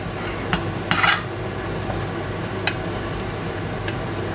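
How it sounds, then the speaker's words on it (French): A spoon stirs a butternut squash gratin mixture in a pan, giving a few scattered scrapes and clinks, one louder clatter near the start, over a steady low kitchen hum. "Je mélange."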